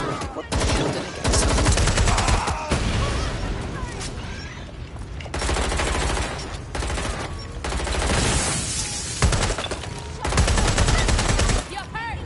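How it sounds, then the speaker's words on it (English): Gunfire in the Watch Dogs Legion video game: repeated bursts of automatic fire and single shots, loud and close, broken by brief gaps, with voices talking over parts of it. "Hey, someone shooting!"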